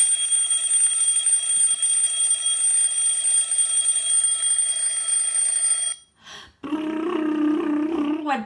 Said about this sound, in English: Went the alarm clock.